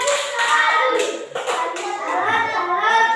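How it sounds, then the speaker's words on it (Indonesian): Schoolchildren in an Indonesian classroom clap their hands together in a brief burst of mixed, uneven applause, with voices talking over it throughout. "Beri tepuk tangan untuk mereka."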